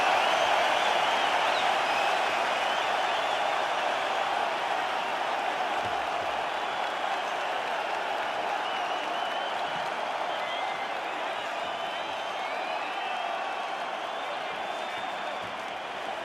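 Arena crowd noise from the UFC 5 video game, a steady loud roar of cheering and applause from a capacity crowd that holds evenly throughout with a slight fade.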